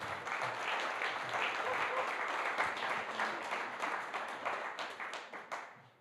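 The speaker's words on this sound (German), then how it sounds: "Einmal gerne einen großen Applaus." Audience applause for a panel guest, the Head of Business Development at German cloud provider Stackit, at an on-stage cloud computing event: dense, steady clapping from a crowd lasting several seconds before fading out at the end.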